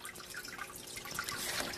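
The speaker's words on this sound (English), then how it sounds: "what that water noise is, and it's this. It's my turtle tank." Water trickling and splashing through a turtle tank filter, a quiet, continuous bubbling flow with small drip-like spatters and no voices.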